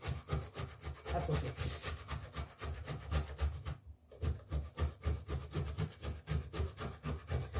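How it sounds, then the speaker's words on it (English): Tomatoes rubbed back and forth over a grater to make paste, a steady rhythmic rasping of quick close strokes with a brief pause midway, then resuming; a few words are spoken. "I'm going to be grating the tomatoes just to get the paste"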